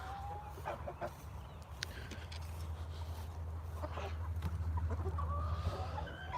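A broody hen clucks inside a backyard chicken tractor, giving scattered soft, throaty clucks over a steady low hum that swells slightly toward the end.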